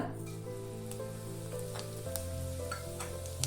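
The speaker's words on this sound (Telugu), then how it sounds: "ఆయిల్ బాగా కాగిన తర్వాత ఇందులోకి జీలకర్ర" Cumin seeds crackle and sizzle in hot oil and ghee in a pan, a soft continuous frying hiss with scattered small pops over a steady low hum.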